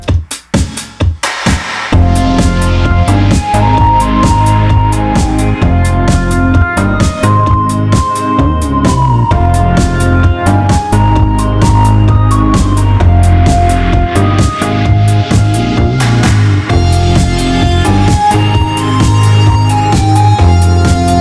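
A loud, steady four-on-the-floor disco groove with a thumping bassline and bright synth chords, driving continuously without any voices.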